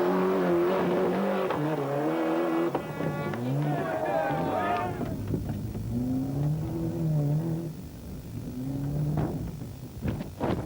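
On-board sound from a Ford rally car on a gravel stage at the 1995 Rally of Portugal, the engine loud and close, revving up and down through gear changes with rising and falling pitch, no talk.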